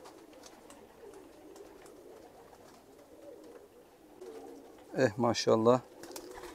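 White posta pigeons, two hens and two cocks, give a short burst of close, loud cooing near the end, after a stretch of quiet room noise. Someone speaks briefly.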